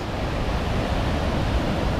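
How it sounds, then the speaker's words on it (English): Steady, dense roar of rushing water from Kakabeka Falls in Ontario, a large waterfall, broadband and constant throughout, heard from nearby with no voices. "Canada's 2nd highest waterfall?"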